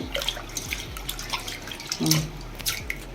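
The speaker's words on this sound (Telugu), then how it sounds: "ఇప్పుడు నీళ్లు పోసానమ్మ కడుగుతున్న పప్పుని" Water poured over lentils being washed for a dal, giving soft splashing and trickling with a few brief drips and a slightly louder splash partway through, close by, with no talk.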